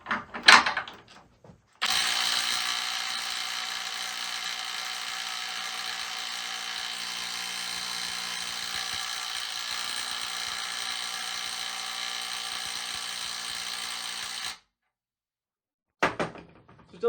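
Dewalt DCF921 20V Atomic impact wrench on a 9Ah battery hammering continuously for about twelve seconds at close range, a steady loud rattling buzz, with brief clunks of handling before and after.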